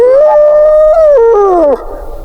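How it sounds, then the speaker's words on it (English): A hyena gives a single loud, close, drawn-out whooping call that holds steady, then bends downward and fades, with no voices. "It is a hyena."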